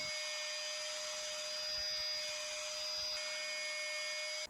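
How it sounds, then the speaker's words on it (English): A red trim router runs steadily with a thin, high electric whine, measured at around 65 dB and notably quiet, holding an even hum close by throughout. "As you can hear, this red trim router is way quieter at around 65 dB."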